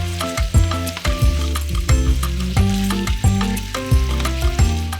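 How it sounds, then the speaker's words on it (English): Marinated steak strips fry in hot oil, a loud, steady sizzle with rhythmic scraping and stirring strokes from a utensil throughout. "oil in it so that I can fry these marinated strips of steak"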